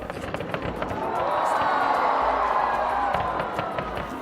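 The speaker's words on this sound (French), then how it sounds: "le ciel de Ouaga a aussi pu se faire le théâtre d'un bon cocktail de feux d'artifice" Fireworks burst over Ouagadougou at the FESPACO opening ceremony, with sharp cracks and pops scattered over a dense, steady roar from the crowd.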